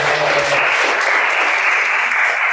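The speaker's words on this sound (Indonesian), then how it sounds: "tepuk tangan" Loud, dense applause from a crowd, steady clapping throughout with no pauses.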